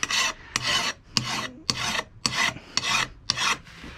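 A hand file sharpening a lawn mower blade, seven rhythmic rasping strokes about half a second apart, close and alone.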